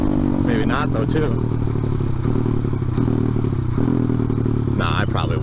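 A motorcycle engine runs loud and close near a car meet at night, holding a steady low rumble with faint clatter, while someone talks over it.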